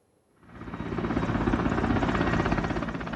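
A Mi-17 search and rescue helicopter with engine failure, landing on a beach: its engine swells up from near silence into a loud, steady rotor drone that holds for several seconds.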